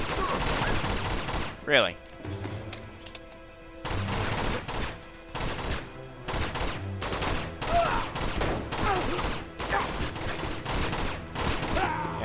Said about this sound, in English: I just headshot him using blind fire